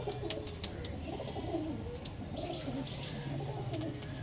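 Original Chennai breed pigeons coo softly and steadily in an evening setting, low rolling calls repeating under faint sharp chirps and clicks, moderately distant with no talk.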